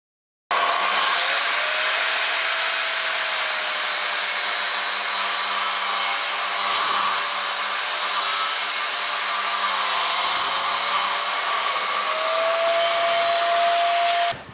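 Metabo KGT 305M mitre saw ripping a wooden decking board against a parallel guide, a loud, steady motor whine with cutting noise held for about fourteen seconds, close up and with no talk.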